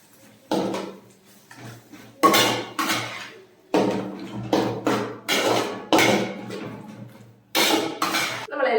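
A spoon stirs tomato fish curry in a cooking pot, giving repeated scraping and clinking strokes in uneven bursts, close and fairly loud, with no talking.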